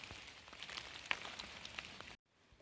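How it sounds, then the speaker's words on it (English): Steady rain patters on the surroundings during a backpacking hike in Wayne National Forest's Wildcat Hollow, a soft continuous hiss with a few sharper drops, before it cuts off abruptly near the end. "It's raining."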